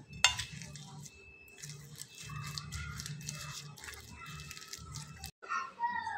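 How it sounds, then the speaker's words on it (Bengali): A spoon mixes and presses mashed gathi taro with its other ingredients for a bhorta, making faint, soft squelching and scraping sounds in an irregular rhythm, with a short pause near the end. "এখন আমি সবগুলো উপকরণ একসঙ্গে চামচ দিয়ে মাখিয়ে নিতে পারবো"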